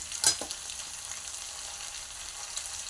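Eggplant frying in oil in a pan for a fish curry, a brief scrape of stirring near the start and then a steady, faint sizzle that carries on without talk.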